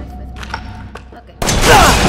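Scattered soft thumps and clicks for over a second, then a loud, dense burst of explosive crackling rumble from explosions in Resident Evil 7 Biohazard erupts and fills the rest, with a voice faintly underneath.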